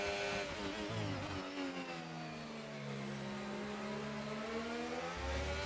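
A sim racing car engine revs loud and close, its pitch sweeping up and down through gear changes with a steady, continuous drone and no talk over it.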